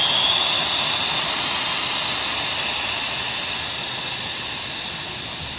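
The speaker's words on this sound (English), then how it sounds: "you should hear the air starting to escape" Air rushes out of a ride-on mower tire valve with the core removed, a loud, steady, close hiss that holds for several seconds and fades slightly toward the end.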